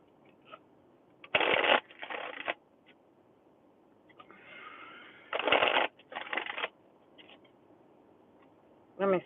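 Oracle cards are shuffled by hand in close, brisk bursts of riffling and flapping, two main rounds each split into quick double passes, with soft taps between.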